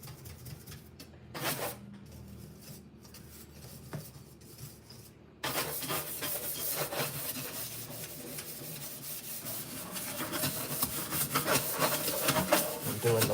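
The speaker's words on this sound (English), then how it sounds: "it will clean that stainless steel so good" Wiping and rubbing strokes on stainless steel with a non-toxic cleaner, first a few scattered scrubs, then steady, louder continuous rubbing from about halfway on.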